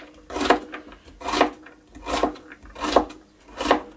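Knife chopping vegetables on a cutting board for a crockpot minestrone, five evenly spaced crisp cuts about a second apart, close and clear with no talking.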